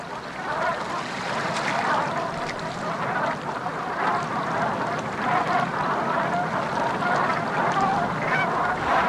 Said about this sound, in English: Black brant geese flock here to feed on their favorite food, eelgrass.